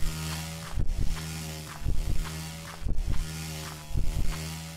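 Saw traps in the video game Lithium: Inmate 39, a rhythmic mechanical buzzing and grinding that repeats roughly every second in short bursts over a steady electric hum.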